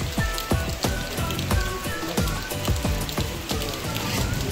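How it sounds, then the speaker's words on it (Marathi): Heavy monsoon rain falling at a stone temple in Wai, Maharashtra: dense, constant patter and splashing of drops on hard surfaces, close and steady throughout with no voices. "कोकण भागामध्ये पाऊस मात्र जबरदस्त।"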